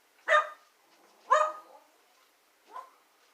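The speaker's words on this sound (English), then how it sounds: "They're just barking because they hear noise." Dogs bark in the background: three separate barks, the first two sharp and fairly loud about a second apart, the last softer after a longer pause, with no talk over them.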